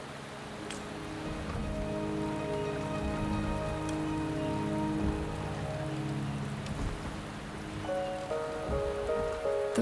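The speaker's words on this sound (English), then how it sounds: "The rain is subsiding" Steady rain patters down in Wuthering Waves, a constant wash of drops on surfaces at close range with tonal game music underneath and a faint rumble, continuing evenly without voices.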